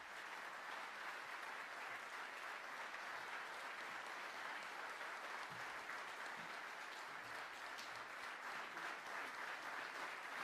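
Steady, even applause from a large audience greets a country singer at a formal military employer awards ceremony, heard from a distance and sustained without a break.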